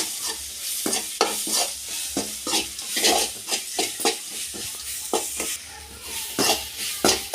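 A spoon scrapes and stirs spice masala as it dry-roasts in a pan for catfish puttu, giving repeated close scraping strokes over a steady soft sizzle, with no talking.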